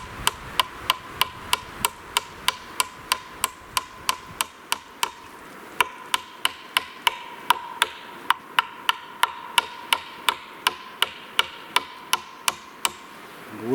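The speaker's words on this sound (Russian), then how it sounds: "Забивается гвоздь, на котором держится капкан и приманка." Hammer driving a used, bent nail into wood for a sable trap platform, a long run of sharp, evenly spaced strikes repeating about every half second, loud and close.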